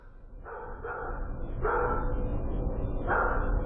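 Several dogs bark in short bursts, a few quick barks followed by longer bouts, fairly close against a steady low background rumble.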